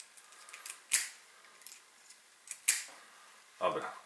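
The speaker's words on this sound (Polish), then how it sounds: "się wkłada wytrych, lekko napina i się bierze, szybko przerzuca po kołkach wszystkich" A lock pick rakes the pins of a gym locker padlock, giving a few sharp metallic clicks and scraping bursts spaced irregularly over quiet pauses, close and distinct.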